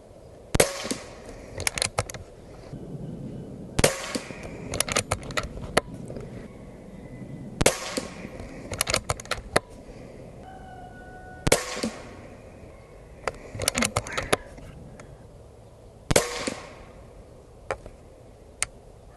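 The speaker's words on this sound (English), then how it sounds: "I'm gonna shoot down at the target below it and see what we get" An Umarex Origin .25 air rifle firing pellets at a target, sharp cracks spaced a few seconds apart, each followed by brief clicks and mechanical handling noises, fairly close with quiet gaps between shots.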